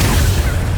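Incendio fire spell cast in the Hogwarts Legacy video game, a dense, loud burst of low rumbling whoosh that fills the whole brief moment, like a continuous fiery blast.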